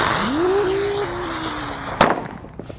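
A rotator firecracker set off during Ramadan whistles as it spins up in rising pitch, then ends in one sharp, loud bang followed by a fading crackle.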